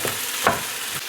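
Rice and garlic toast in a hot pan with a soft, close sizzle and a brief stirring scrape, a short burst with no talk.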